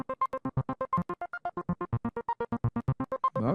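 A Leslie rotary speaker effect in Cubase sweeps a sustained harmonic tone, giving a fast, even tremolo throb of about seven pulses per second that stays steady for several seconds and ends with a brief smeared swell.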